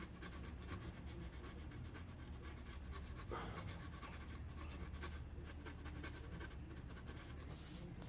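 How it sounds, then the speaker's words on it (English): A turbocharger part's surface is scuffed by hand with an abrasive pad: quiet, steady rubbing and rasping strokes close up, in a fairly continuous back-and-forth rhythm. "I'm gonna go ahead and wipe here one more time. Scuff the surface."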